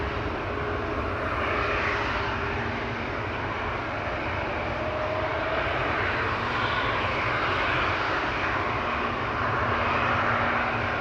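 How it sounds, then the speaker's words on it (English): Air Baltic airliner moving at Amsterdam Schiphol Airport, a continuous broad jet engine roar heard at some distance, steady in level throughout with no talk over it. "Air Baltic in the background also coming this way."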